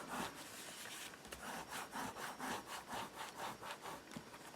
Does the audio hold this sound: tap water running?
no